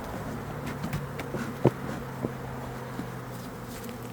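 Honeybees buzz steadily around an opened hive during a colony split, a low continuous drone with brief sharper passes close by, no voices.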